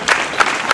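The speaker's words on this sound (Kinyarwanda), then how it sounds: "Amashyi menshi cyane." A school audience claps together, dense applause with a few sharper accented claps roughly every third of a second, close and fairly loud.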